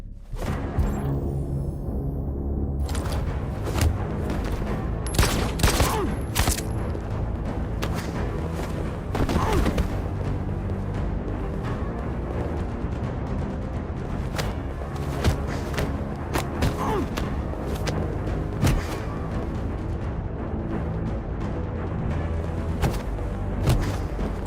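Gunshots trade back and forth in a tense standoff from Detroit: Become Human, sharp loud bursts scattered across a dense, rumbling game soundtrack.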